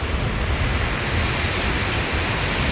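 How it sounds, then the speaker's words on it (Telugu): Mallalli waterfall roars in a continuous, loud, broadband rush of falling water heard up close, with no other sounds over it. "ఇట్లాంటి వాటర్ ఫాల్స్లో వాటికి ఎంత ఇంపాక్ట్ ఉంటుందో"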